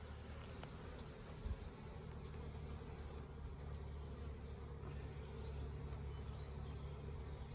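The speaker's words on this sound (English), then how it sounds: "Bees are busy." Faint, steady buzzing of bees drones continuously outdoors on a farm, soft and even with no talking.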